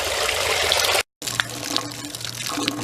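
Water gushes out of the drain of a pond and rainwater hydroponic filter as a steady, close rushing flow, cut off for a moment by a brief silent gap before it resumes.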